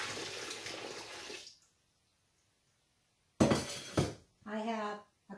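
Melted homemade soap pours into a pail holding hot water for laundry detergent, a close splashing pour that stops abruptly, then clinks and sloshing follow after a pause, with a voice talking near the end.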